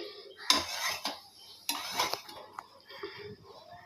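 Mutton goes into a pan of fried-down spices for a light mutton curry, with sharp metal spoon clanks and scrapes against the pan in uneven bursts, close and fairly quiet, with no voices.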